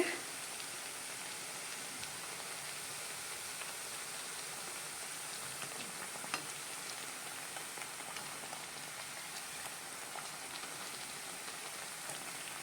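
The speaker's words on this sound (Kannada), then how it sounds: "ಇದು ಮೀಡಿಯಮ್ ಫ್ಲೇಮಲ್ಲೇ ನಾವು ಬೇಯಿಸ್ಕೊಬೇಕು" Nippattu, crisp Karnataka rice crackers, frying in hot oil over a medium flame, giving a steady, even sizzle and crackle throughout with no speech.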